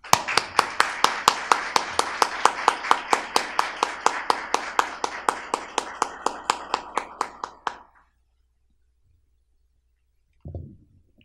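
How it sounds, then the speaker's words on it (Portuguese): An audience at a talk on Portuguese cordel pamphlets in Belo Horizonte claps in steady unison rhythm, sharp, regular beats for about eight seconds before stopping abruptly, followed by a short voice. "eu já peço agora palmas antecipadas para Arnaldo Saraiva"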